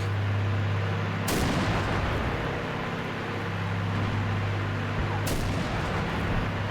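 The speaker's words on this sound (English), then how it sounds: "Gunshots sound good on the cannons there." Tank cannons firing in the war game Armored Brigade 2, with two sharp, loud blasts a few seconds apart over a constant low engine rumble and a battlefield din.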